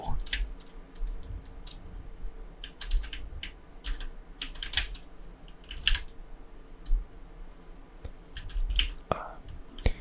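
Rapid computer keyboard typing and clicks during a game of Fortnite, sounding close and in irregular bursts with short pauses, with soft game sounds and a low hum underneath.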